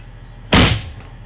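School bus back door being checked: a single sharp, loud thump of the door shutting against a quiet idling hum.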